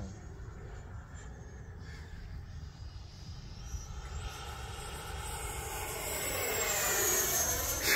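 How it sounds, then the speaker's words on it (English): An E-flite Viper 90mm RC jet in flight, its inlet whistle and ducted-fan roar heard from a distance and growing louder toward the end, with faint outdoor background around it. "everything makes that jet sounds. That's what you're hearing, them inlets."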